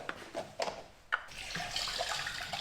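Antifreeze pours into the header tank of a Vauxhall Astra van, giving a close liquid gurgle and splash with a few brief knocks at the start.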